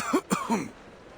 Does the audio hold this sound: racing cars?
no